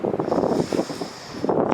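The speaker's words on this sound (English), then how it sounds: "Sorry it's a little windy here today" Wind gusting outdoors and buffeting a microphone, a steady broadband rush with louder surges at the start and end.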